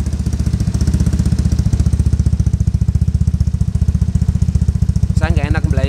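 A modified Vespa Sprint scooter's Polini Cobra exhaust runs loud and close with a rapid, even putter; near the end a voice briefly speaks over the engine.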